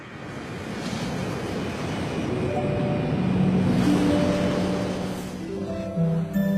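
Sea waves at the shore make a steady, broad rushing roar that swells and eases, with faint tonal background music underneath.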